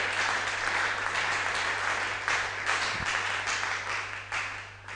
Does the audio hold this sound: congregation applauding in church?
yes